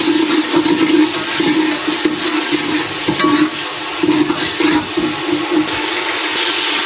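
Karhi mixture with salt fries and is stirred in a pan, giving a loud continuous sizzle with rhythmic scraping strokes close to the listener.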